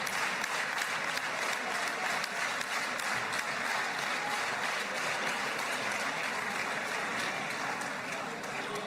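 A political event crowd claps steadily to drown out a disruption, dense sustained applause filling the room at a constant level with no speech on top.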